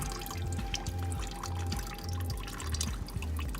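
Coolant drains from disconnected radiator hoses on a Nissan Titan or Armada truck, a steady liquid trickle with regular close drips falling about every half second over a constant background hum.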